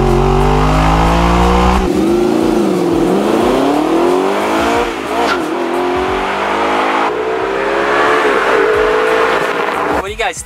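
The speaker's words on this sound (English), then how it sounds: "In just a little bit you guys are gonna hear my R8 V8." Audi R8 V8 on its stock exhaust revs loudly and close, the engine note rising and falling through several throttle blips with a continuous roar and no one talking.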